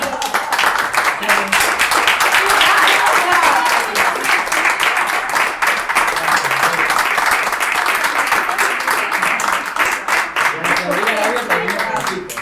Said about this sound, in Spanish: Y en mí aplauden a todo el equipo de conducción.